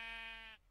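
A single drawn-out bleat from Billy, a white sheep in a video game, clear and fairly close, lasting about half a second before cutting off.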